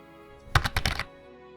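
A short burst of computer keyboard typing, about five or six quick, close keystrokes clattering in a rapid cluster lasting half a second, then quiet.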